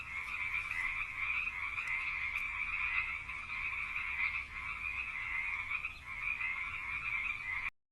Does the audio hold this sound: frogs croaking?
yes